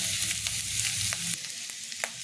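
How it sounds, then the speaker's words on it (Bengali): Onions sizzle steadily in hot oil while frying for potol chop, a Bengali stuffed pointed gourd croquette, a close, continuous hiss broken by a few soft stirring clicks. "এবার পেঁয়াজটা একটু লাল লাল করে ভাজা হলে আমি বাকি মশলাগুলো দেবো"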